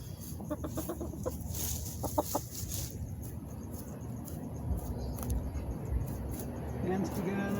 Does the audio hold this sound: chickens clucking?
yes